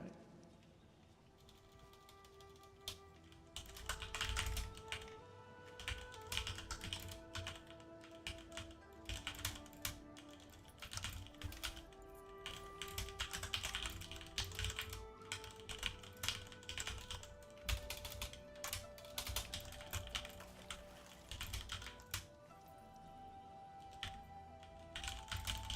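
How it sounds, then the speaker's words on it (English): Rapid computer keyboard typing in bursts of clicking keystrokes, fairly quiet and close, layered over game music with sustained tones during Arknights: Endfield gameplay. "That's what the typing was."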